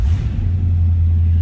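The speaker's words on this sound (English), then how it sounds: "let's go ahead and start this up." Engine of a 1972 Buick Skylark hardtop firing up and settling into a loud, deep, steady rumbling idle close by.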